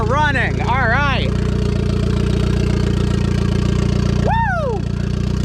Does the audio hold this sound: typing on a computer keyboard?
no